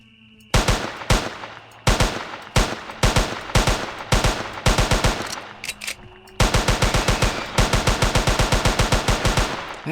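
Rapid bursts of submachine gun fire from the Jurassic Park Hunter Legends video game ring out loudly and repeatedly, with short strings of shots separated by brief pauses, and then one longer sustained burst.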